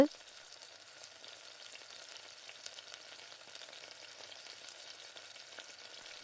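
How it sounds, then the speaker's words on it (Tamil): Batter and oil sizzling in a kuzhi paniyaram pan, a faint, even crackling hiss that continues steadily for about six seconds without talk. "இப்போ இந்த மாவை அதே மாதிரி தான் இப்போ எண்ணெயை ஊற்றிட்டு கொஞ்சம் கொஞ்சமாக அந்த மாதிரி குழியில் சேர்த்துட்டு"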